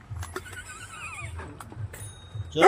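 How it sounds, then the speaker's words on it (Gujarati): A mare neighs in a long wavering whinny up close, with a quick clip-clop of hooves and a sharp louder burst of sound at the end. "આ મારા ઘોડી"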